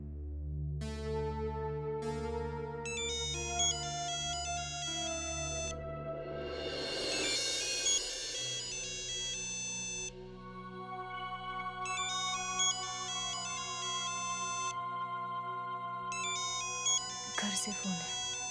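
An electronic phone ringtone plays a repeating melodic pattern for a long stretch, with brief breaks and some sweeping tones mixed in.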